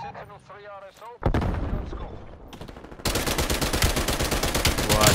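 Gunfire in a first-person shooter video game: a sharp burst of shots cuts in after a spoken voice, then heavy rapid automatic fire continues loud and dense to the end.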